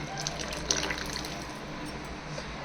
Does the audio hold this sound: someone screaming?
no